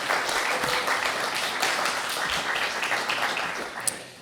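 Audience applause in a hall during a French oratory competition as a jury member is introduced, dense steady clapping from many hands throughout, easing slightly at the end.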